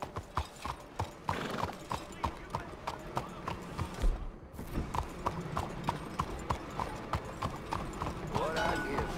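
Horse hooves clip-clopping in Red Dead Redemption 2, a steady run of sharp hoof strikes close by over a busy town backdrop, with a brief whinny and voices talking.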